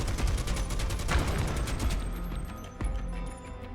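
Rapid gunfire shooting at an ore deposit to mine it in Final Fantasy VII Rebirth, a dense mechanical burst of repeated shots that stops abruptly, followed by a few scattered clanks.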